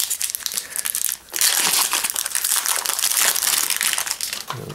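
Crinkly foil wrapper of a Magic: the Gathering Fate Reforged booster pack being torn and crumpled, loud and close, a continuous crackling rustle with a brief pause near the start.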